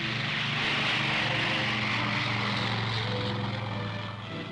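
A propeller-driven military transport aircraft drones steadily in flight, a loud, continuous engine roar with a low rumbling hum throughout, easing slightly at the end.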